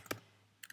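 Computer keyboard keys being typed for a search, a few quiet clicks: one near the start and a quick pair near the end, with near silence between.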